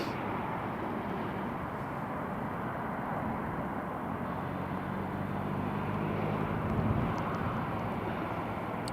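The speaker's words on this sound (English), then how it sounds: "KLM just taxiing along there now" A KLM airliner taxis at Newcastle International Airport, a steady distant jet engine rumble and whine with a slight rise in level near the end.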